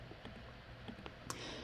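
Typing on a computer keyboard: a handful of faint, sparse keystroke clicks spaced irregularly over a quiet background.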